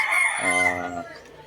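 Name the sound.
Hatch gray gamefowl rooster crowing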